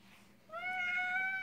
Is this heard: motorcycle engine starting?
no